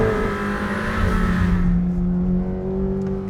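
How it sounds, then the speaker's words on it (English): A Chevrolet Corvette ZR1 engine drones steadily while driving, a loud, even tonal hum with faint gear or pitch shifts, heard from inside the car with no voices. "I think I expected the engine to be a little less subtle than it is really."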